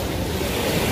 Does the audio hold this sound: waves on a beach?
yes